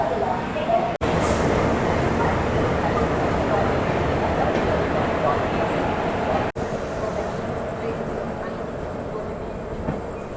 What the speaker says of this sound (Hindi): फ़िलहाल अभी के लिए डिपार्चर दिखा देते हैं ट्रेन का